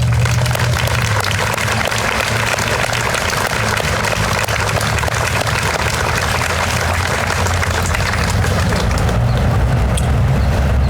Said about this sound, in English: we can get one more round of applause for Drury McCann students